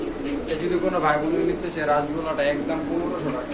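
Very large Lahori pigeons coo in low, soft, rolling calls, several overlapping nearby, under a steady murmur of background voices.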